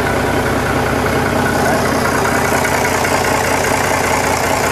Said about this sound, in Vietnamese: Đấy, động cơ chính hãng của Komatsu nha mọi người nhé